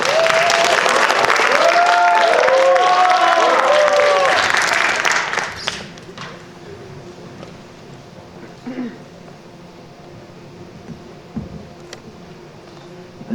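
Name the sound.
applause for student presenter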